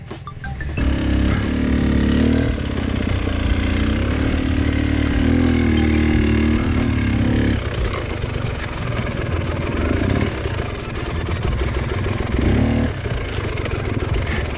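An enduro motorcycle climbs a hill on a cross-training course, its engine loud and close with a sustained revving drone that shifts pitch as the throttle opens and eases, rear wheel slipping under power.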